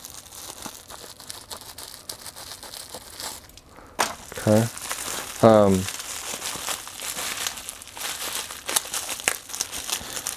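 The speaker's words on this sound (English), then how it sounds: "Everything is bubble wrap, so it's really secure. So you know that's not damaged, or it's not going to come damaged. So I'm going to use the scissors to crack this open here." Scissors slice through bubble wrap packaging around a renewed Microsoft Sculpt Ergonomic Keyboard, giving crinkling plastic and a couple of short tearing cuts near the middle, close and fairly loud, with a brief spoken word.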